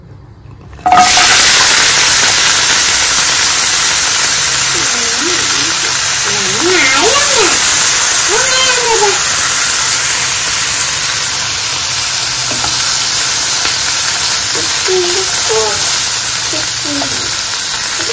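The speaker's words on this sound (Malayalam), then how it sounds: "ഇഞ്ചിയും വെളുത്തുള്ളിയും ഉള്ളിയെല്ലാം നമുക്ക് ഇതൊന്ന് ഇതിലേക്ക് ഇട്ടൊന്ന് ഷാലോ ഫ്രൈ ചെയ്തെടുക്കാം" Chopped onion, ginger and garlic hit hot oil in a pan for shallow frying, bursting into a loud, steady sizzle after a second of quiet and hissing continuously while a person talks over it.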